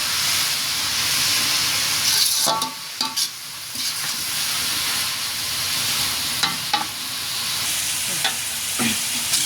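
Potatoes sizzle steadily in a hot pan while a utensil stirs and scrapes through them, with occasional sharper clacks against the pan.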